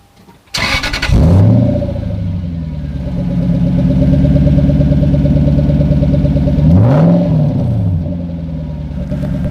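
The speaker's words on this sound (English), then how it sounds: "That's the exhaust." A car fitted with an HKS silencer exhaust starts up with a sharp burst, then holds a steady loud idle with a rising and falling rev partway through, close by and with no talking.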